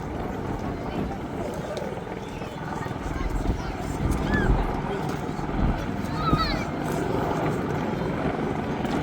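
AH-64E Apache attack helicopters in a role demo at the Duxford summer air display, a distant rotor thump and engine drone under continuous commentary over loudspeakers.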